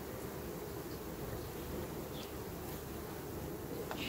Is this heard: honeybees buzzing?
yes